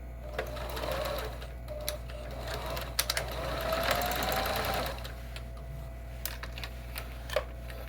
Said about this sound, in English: So I'm practicing to make sure that my stitches are good, my machine is threaded properly and all that business.